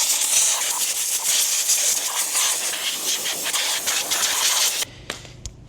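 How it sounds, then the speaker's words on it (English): Loud, continuous hissing blast of compressed air cleaning an aluminum part being repaired with thread inserts, close to the mic, cutting off abruptly near the end and followed by a couple of faint knocks. "Let me get some compressed air."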